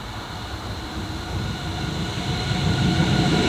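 A train passes on the Swiss main line between Olten and Oensingen, a steady rumble of wheels and rail noise that builds slightly in loudness over a few seconds, close by with no voices.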